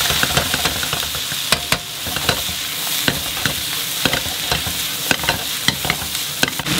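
Pickled mustard greens stir-frying in a wok with pan-fried fish bones, a steady loud sizzle broken by frequent sharp clacks of a spatula scraping and tossing, with no voices.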